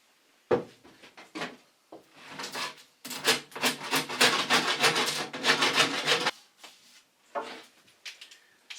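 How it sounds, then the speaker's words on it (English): A rasp files the rough edges of a fiberglass-backed laminated wooden flat bow in a series of close, scraping strokes, with short rubs at first and then a sustained run of rapid rasping before a few final light scrapes. "we want to get all of these little pieces taken off with the rasp"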